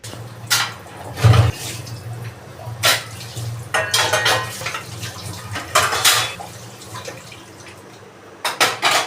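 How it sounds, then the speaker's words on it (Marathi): Utensils being scrubbed and washed in a home kitchen, with repeated clattering of pots and cutlery over a running water background, several louder knocks and bursts spaced through the clip. "मी इथे आता भांडे घासून घेते आणि किचन पूर्ण क्लीन करून घेते"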